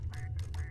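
A blue duck in the Obenseuer game gives a few short quacks in quick succession, faint and set against a low steady hum.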